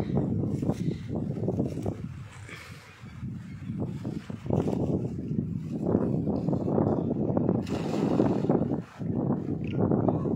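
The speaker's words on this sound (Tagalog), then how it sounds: "Medyo mahangin po dito, kaya medyo maingay yung video natin ngayon." Gusty wind buffets the microphone in loud, uneven bursts of low roaring noise that rise and fall throughout.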